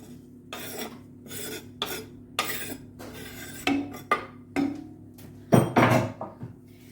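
Lamb heart stuffing stirred gently in a pot, a series of short scraping and clinking strokes of a spoon against the metal, close and fairly quiet, with a louder clatter near the end.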